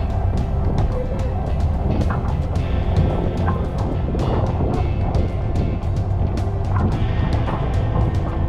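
Steady engine rumble of a dive boat idling and maneuvering its stern close by divers off Palm Beach, Florida, with water sloshing and wind buffeting throughout.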